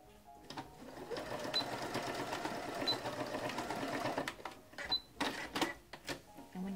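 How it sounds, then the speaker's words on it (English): A sewing machine stitches elastic onto a fitted diaper, a fast rhythmic mechanical whirring that runs steadily, then breaks into short stop-start bursts near the end. "So I'm going to sew right here, exactly in line with my casing"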